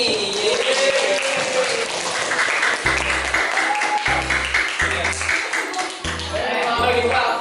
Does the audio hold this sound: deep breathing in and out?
no